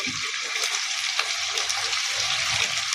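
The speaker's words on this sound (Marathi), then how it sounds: "पूर्ण हे सगळं गोल्डन ब्राऊन होईस्तोवर तळून घ्यायचं" Paneer, chopped green chillies and capsicum fry in a pan, giving a steady close hiss of sizzling oil with small crackles throughout and no talk.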